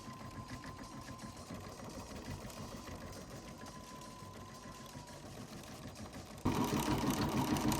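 An embroidery machine stitches green thread onto a shirt, its steady, busy mechanical whir running continuously and growing louder and brighter in the last second or so, with no talk.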